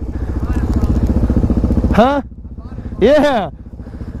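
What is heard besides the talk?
motorcycle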